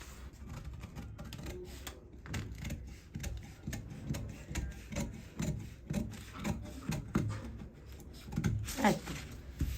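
Shirt fabric is cut for tailoring a kameez front, giving uneven rasping snips and rubbing scrapes in short bursts while someone talks throughout.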